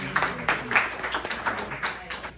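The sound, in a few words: audience applause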